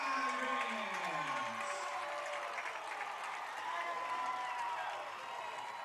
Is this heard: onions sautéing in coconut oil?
no